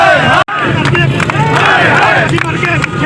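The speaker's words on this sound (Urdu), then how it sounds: "ریلی کے دوران شرکا ارباب اختیار کے خلاف مسلسل نعرے بازی کرتے رہے۔" Loud crowd of protesting teachers chanting slogans together at a rally on GT Road, voices massed and continuous, with a brief gap near the start.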